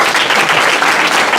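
An audience at a business presentation breaks into close, loud applause, a dense wash of clapping hands with no pauses.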